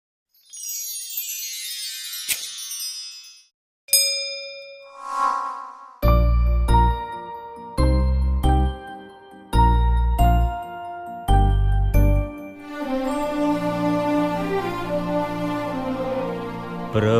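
Temple bells ring out in a series of clear, struck metallic tones with long ringing decay, building into a dense, sustained peal of overlapping chimes near the end.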